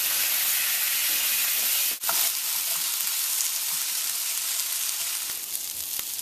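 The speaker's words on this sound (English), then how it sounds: "I'm going to add the onions and just cook the two together in the skillet" Peppers and onions fry together in a skillet with a steady, loud sizzle and hiss, broken by a brief dip and a few light clicks of stirring, and no voices.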